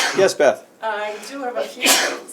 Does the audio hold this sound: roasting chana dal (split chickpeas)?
no